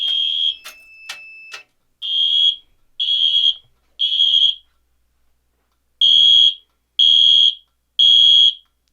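An FCI MS2 fire alarm panel system test sets off a small, loud horn that blares in repeated sharp bursts with short gaps, after a few quick clicks, shrill and close with no voices.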